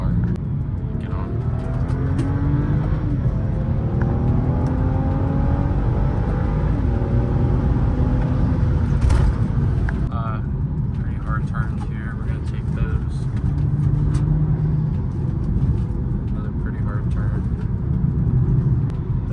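A BMW X1 xDrive35i M-Sport pulls hard in second gear up to about 40 mph, its engine note climbing steadily in pitch as revs build, loud and close from inside the car, with a brief shift-like break partway through.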